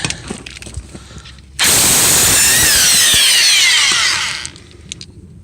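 An impact wrench spins off a wheel nut on a 1959 Edsel in a garage. One loud, sustained, high-pitched whirring burst lasts about three seconds and then cuts off, with quieter handling noise before and after.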